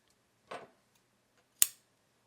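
Two crisp snips of scissors cutting jumbo braided cord while crocheting a cat bed, separated by about a second, close and clear in an otherwise quiet room.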